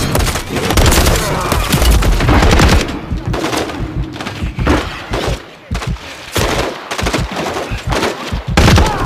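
Heavy automatic gunfire from a Call of Duty Modern Warfare III campaign firefight, loud sustained bursts with booming impacts, continuous and dense throughout, with a few faint voices underneath.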